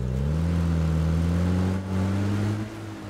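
A truck engine in a video game labors uphill, a loud, steady low drone whose pitch rises gradually as the vehicle climbs, with a brief dip before continuing.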